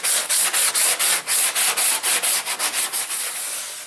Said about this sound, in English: I'm gonna do a little bit with this 80 sandpaper, just to make it a little bit grabbing for the fiberglass.